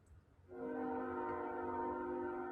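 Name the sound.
train arriving on a live train camera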